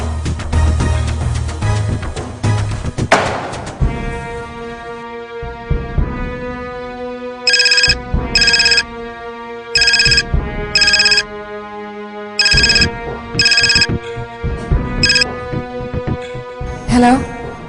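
A landline telephone rings for an incoming call, with its electronic ringtone sounding in a steady series of bright, repeated bursts. Each burst is loud and close, and sustained musical tones play underneath.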